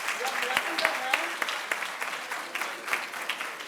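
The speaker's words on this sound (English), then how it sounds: "everybody is very, they are clapping their hands" A seminar audience on soul and consciousness claps for physicist Sir Roger Penrose, a steady crowd applause with sharp individual claps standing out, fairly close, with some voices murmuring underneath.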